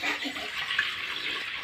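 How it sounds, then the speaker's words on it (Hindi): Water is poured into a clay pot while kheer is being made, giving a short, soft splashing rush at moderate level with no talk over it. "ये पानी डाल दिए देने जा रहे हैं"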